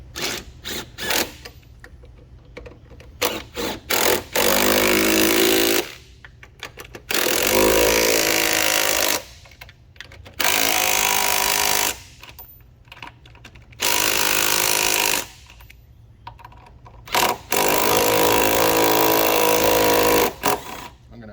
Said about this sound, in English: let's go ahead and tighten down our side bolts right here